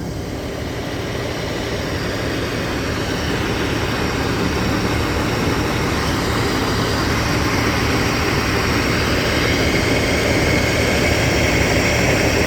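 A freshly rebuilt combine harvester engine runs during a test, producing a loud, continuous, heavy mechanical drone with broad noise that holds steady and grows slightly louder.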